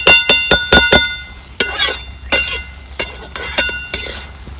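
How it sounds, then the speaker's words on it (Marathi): A metal lid set down on a cooking pot on the stove while a drumstick-leaf vegetable dish cooks, giving a loud, close run of ringing clinks and clatters that settle into lighter taps and fade. "आता मी परत एक वेळ ह्याच्यावरती झाकण ठेवते."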